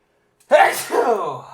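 A single sharp, forceful sneeze bursts out after a moment of silence, followed by a trailing breathy exhale, close and loud.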